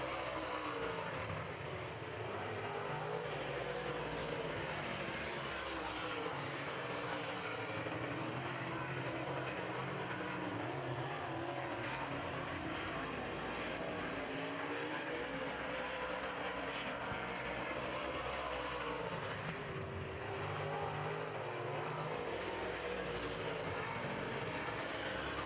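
Late model race cars roar around a dirt oval during a heat race, a continuous engine drone that swells and fades as the field passes, heard from a distance without any talk.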